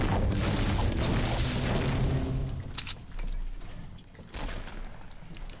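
Gunfire in the video game Fortnite rattles loud in a rapid burst at the start, then scattered shots and mechanical clatter follow more sparsely.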